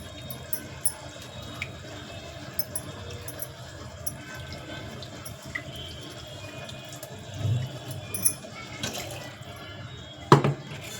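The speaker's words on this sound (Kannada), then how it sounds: "ಈಗ ನೀರು ಹಾಕ್ಕೊಂಡು ಹಾಕೊಳ್ತೀನಿ" Water is poured into a cooking pot for tomato saaru, a soft, steady running splash close by with faint drips and a few clanks of the vessel, and no voices.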